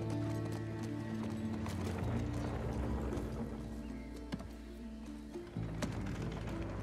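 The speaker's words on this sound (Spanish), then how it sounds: "nuestro caballo corre más que todos" Horse galloping in the video game The Last of Us Part II, a steady clip-clop of hooves running under a dense, continuous bed of game music and ambience.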